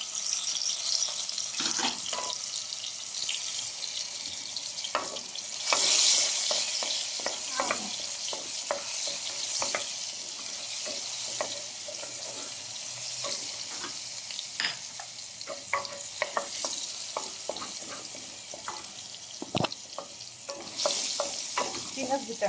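A spoonful of garlic drops into okra and meat cooking in a pot, followed by a soft continuous sizzle and clinking spoon strokes as the food is stirred, with a brief burst of running water near the middle.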